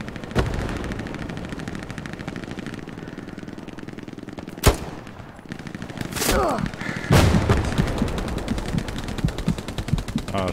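Gunfire in the World War II shooter Hell Let Loose: a continuous stutter of distant automatic fire with a few louder nearby bangs punctuating it, steady throughout.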